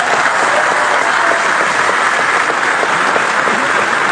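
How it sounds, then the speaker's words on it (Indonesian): Loud, dense applause from a large crowd at a PSI party gathering for two party chairmen, sustained and even throughout with no pause. "saya ingin minta tepuk tangan yang paling meriah kepada dua ketua umum kita"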